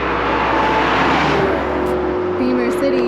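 A 2021 BMW M4 Competition running CSL software on stock exhaust and headers sounds loud and close, its engine note rising and shifting as it revs and pulls away, with voices talking over it.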